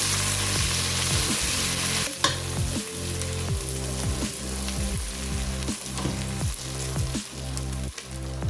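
Ginger garlic paste sizzles in a pan with browned onions for a mutton yakhni pulao. Steady loud frying hiss runs throughout, with repeated scraping and stirring strokes and no talk.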